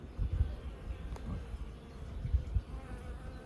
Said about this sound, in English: Got these, I think they're hummingbird moths.